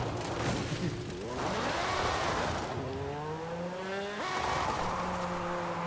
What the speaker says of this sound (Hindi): ये गाड़ी बस अब बहुत तेज एक्सेलरेट कर रही है